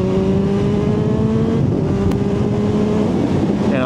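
Kawasaki Z H2 motorcycle engine held at a steady throttle during a twisty road ride, a loud continuous drone with a constant pitch, close up throughout with no voices.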